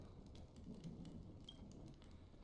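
Soft, steady rain falls in the video game Honkai Star Rail as a faint, continuous hiss with no talking.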